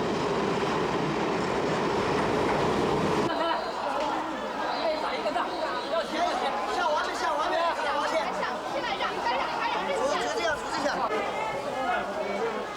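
A Chinese passenger train rides along with a steady rumble inside a crowded third-class carriage, with constant passenger chatter and voices layered over the rolling noise.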